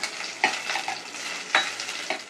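Crushed garlic and cumin seeds fry in hot oil in a pan for Maharashtrian misal. A steady close sizzle is broken by a few sharp scraping stirs.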